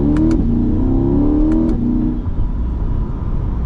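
A 2023 Chevrolet C8 Corvette accelerates at part throttle, its engine rising in pitch through quick gear changes, loud and close, then settling into a steady rumble with no talking.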